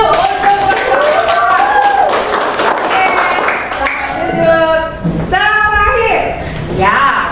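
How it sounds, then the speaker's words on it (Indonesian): A classroom of students claps after a group presentation, a brief patter of hands mixed with loud, overlapping voices and chatter throughout. "Ya, tepuk tangan dulu."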